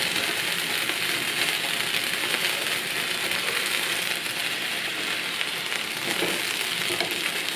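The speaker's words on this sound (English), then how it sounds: "Then add the brandy, let that cook for a minute or two, let it warm up, and then set fire to it" Brandy is set alight in a hot pan while making Steak Diane with a creamy mushroom sauce, producing a loud, constant sizzle and crackle with no pauses.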